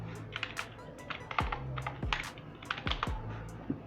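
Typing on a computer keyboard: close, irregular keystrokes with a few heavier taps, no voices.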